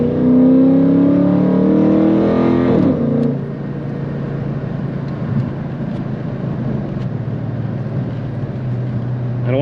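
Dodge Charger Hemi on a 113-degree summer day pulling hard, engine note climbing in a loud close roar for about three seconds before easing to a steady cruising rumble.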